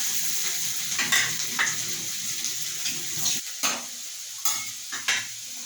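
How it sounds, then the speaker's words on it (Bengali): Onions frying in a pan while being stirred: a continuous close sizzle broken by repeated scraping strokes of a spoon against the pan at an irregular rhythm, with no talking. "পেঁয়াজগুলো লাল লাল হয়ে ভাজা হতে থাকবে"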